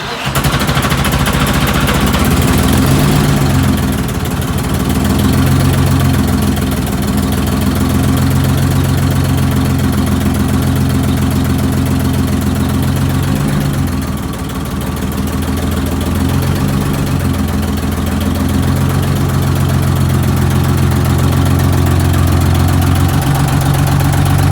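A repaired Eagle bus diesel engine, fresh from a head job and new larger fuel injectors, idles steadily up close with a deep, rumbling, slightly knocking throb that swells and dips a few times over about twenty-five seconds.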